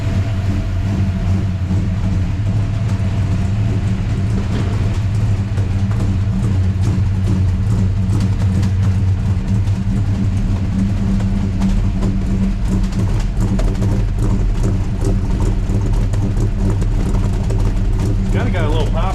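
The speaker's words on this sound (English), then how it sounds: "This is the first time they're gonna hear it with an exhaust too." A 1963 Ford Fairlane engine idles with a new exhaust fitted, a loud, close, steady low rumble with a slight popping edge that runs unbroken the whole time.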